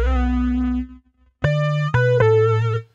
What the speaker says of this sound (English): in voice 3, we've got a sine wave that is actually set 2 octaves down